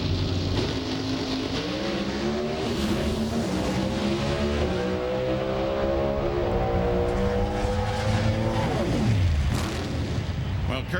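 NHRA drag race cars making a qualifying run at the 2006 K&N Filters SuperNationals, a loud, sustained engine roar whose pitch climbs steadily, then drops sharply near the end as a commentator talks over it.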